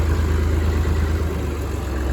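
A Massey Ferguson MF 50 diesel tractor idles in a field with a steady, close, low throbbing rumble and no voices.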